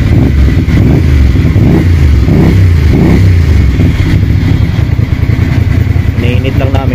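A Ducati Monster 650cc motorcycle engine idles and revs as it warms up in a repair shop, loud and close with pulsing throttle blips, and people talk over it.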